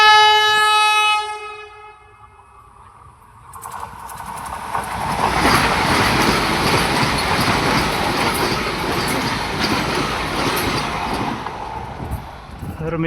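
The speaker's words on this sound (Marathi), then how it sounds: "त्यापूर्वी वंदे भारत ट्रेन आता येणार आहे ते पाहून घेऊयात" A Vande Bharat train near Mangaon sounds a long, loud horn, then passes close by with a heavy, sustained rumble of wheels and carriages that lasts to the end.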